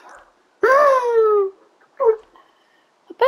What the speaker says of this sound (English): I bet the mic can hear the dog.